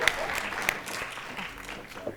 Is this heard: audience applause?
yes